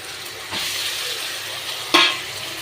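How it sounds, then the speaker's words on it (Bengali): Boiled potatoes are stirred in a hot pan with a steady sizzle and frying hiss, broken by a soft scrape near the start and a sharper clatter of the spoon toward the end. "এবার আমি আলু সেদ্ধটা দিয়ে দেব।"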